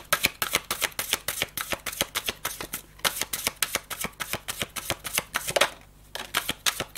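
Tarot-style cards shuffled for a reading: a steady run of quick, crisp riffling clicks, close and fairly loud, with a brief pause near the end before the shuffling resumes.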